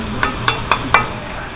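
Shrimp tossed in Old Bay seasoning inside a bowl or pan gives four quick, evenly spaced clinking knocks with a light scraping rustle underneath, close and fairly loud.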